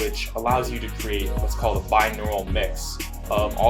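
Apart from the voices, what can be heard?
No distinct noise like a dog, phone or traffic.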